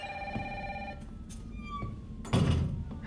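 A telephone rings in the video game Resident Evil 3 (2020), with an electronic tone repeating over a low ambient drone, followed by a couple of dull thuds and clunks.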